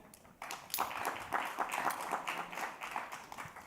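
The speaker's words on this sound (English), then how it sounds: "Please a round of applause for Mr. Ahmed." A small crowd claps steadily for several seconds, a moderate patter of applause that starts right after a brief quiet moment.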